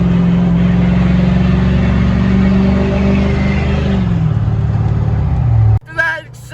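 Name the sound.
truck accelerating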